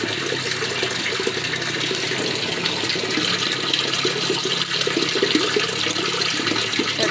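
Water pours steadily from a pipe into a barrel, a continuous loud rushing and splashing that stays even throughout, with no voices.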